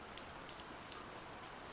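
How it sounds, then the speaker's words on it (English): Gentle, steady rain patters softly and evenly with no breaks, a faint hiss in a quiet indoor setting and no voices. "I love that rain sound"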